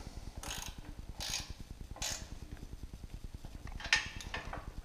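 A ratchet with a 12 mm socket tightening bolts into aluminum while fitting an alternator kit on a Yamaha YXZ, a rapid steady stream of close clicking with a few louder metallic clinks.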